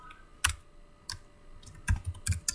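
A file name is typed on a computer keyboard, with a few separate keystrokes spaced apart and then a quicker run of clicks at the end, close and fairly quiet.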